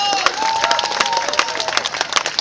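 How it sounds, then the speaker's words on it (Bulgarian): Audience applause at a jazz festival for two female singers, dense clapping with a few cheers and whistles, steady and fairly loud throughout. "за тях моля за вашите аплодисменти."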